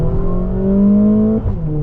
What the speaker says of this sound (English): Oh, I love this transmission shifting.